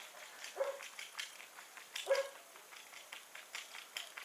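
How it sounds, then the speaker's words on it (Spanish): Dogs barking at a distance, several sharp barks scattered irregularly over a few seconds, faint against a quiet background with no talk. "Y los perros no se callan."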